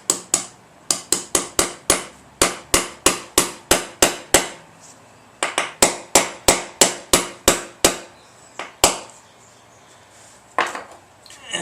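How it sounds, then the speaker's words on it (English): A hammer taps an insert into the mount of a Harbor Freight manual tire changer being fixed to a floor. About thirty sharp metallic strikes come in quick, even runs, broken by a short pause and then slower final blows. "So first we're going to tap our insert in there with the hammer."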